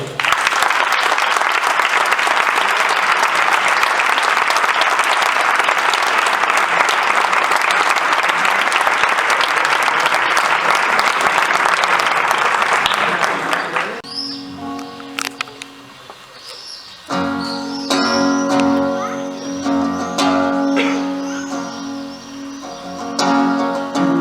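Loud, dense applause from a concert audience in Novelda greets a singer, filling the first fourteen seconds before cutting off into a quieter stretch of scattered sounds and then music.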